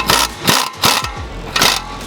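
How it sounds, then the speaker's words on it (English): Exhaust pipe clamp on a 2022-2024 Ford Maverick catback exhaust being snugged with a tool, giving four short, loud bursts of rapid mechanical whirring or ratcheting separated by brief pauses, close up with no talking. "we're going to snug this clamp up"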